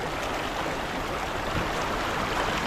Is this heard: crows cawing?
no